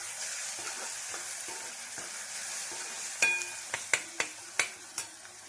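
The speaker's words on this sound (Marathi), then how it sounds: "आपल्याला हे कांदा टोमॅटो पूर्ण गाळ होईपर्यंत शिजवायचं आहे" Onion and tomato sizzle steadily in a pan, a faint continuous frying hiss at first, then a series of sharp spoon-against-pan stirring clacks near the end.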